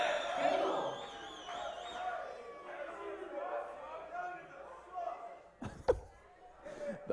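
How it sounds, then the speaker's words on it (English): Lively crowd at a USA versus Canada darts championship, a dense wash of cheering and chatter that carries on steadily, with a sharp slam-like hit near the end. "This is the most lively North American crowd"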